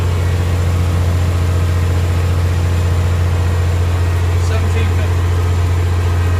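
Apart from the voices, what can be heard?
truck engine throttled up to RPM in cab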